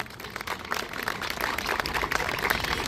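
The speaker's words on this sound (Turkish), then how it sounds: "tüm holdinge bir teşekkür alkışı rica ediyorum sizlerden" An audience applauds in a dense, continuous patter of many hands, a bright, fairly close wash of clapping that holds steady throughout.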